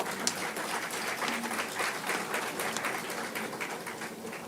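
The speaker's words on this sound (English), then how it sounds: "Big round of applause from the students" Students clapping together at a university MBA convocation ceremony, a dense, steady wash of applause filling the hall, sustained at even loudness throughout with no speech over it.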